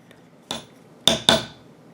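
Tooled leather being backgrounded and beveled with a struck stamping tool, three sharp mallet taps, the last two close together, each ringing briefly in a quiet room.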